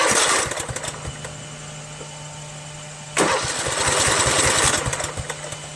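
A Kohler Command CV460S single-cylinder engine on a Craftsman LT1000 lawn tractor, fitted with a muffler, idles steadily, then is revved sharply about halfway through, running loud and close with a rough, pulsing note.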